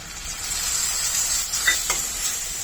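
Masala and grated tomato sautéing in a pan over a low flame, a steady soft sizzle with brief scraping stirs toward the end, close and moderately quiet.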